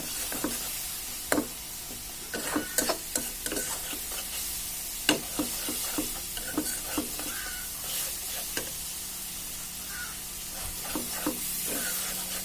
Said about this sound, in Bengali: এখন ভালোভাবে মশলাটাকে কষিয়ে নেব।